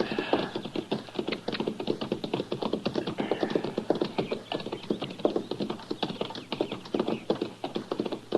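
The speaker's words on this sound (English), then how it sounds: "Now, that's horses down there, Chester." Horses' hooves clip-clop steadily and quickly, close by, as a radio drama sound effect in a Western setting.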